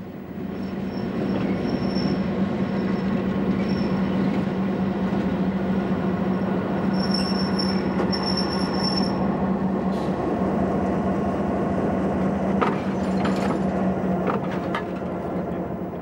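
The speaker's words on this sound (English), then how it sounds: "Contrary to modernized trains, this one still has a diesel locomotive." A diesel locomotive in Israel rumbles steadily with a low engine drone, joined later by clanks and metallic squeals of railcars.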